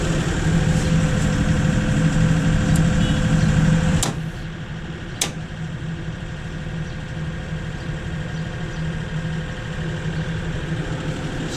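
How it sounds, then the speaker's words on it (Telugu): A diesel generator engine runs at idle after an automatic start, a steady close mechanical hum with a faint ticking, broken by a couple of sharp clicks and a slight drop in level. "సో జనరేటర్ స్టార్ట్ అయింది"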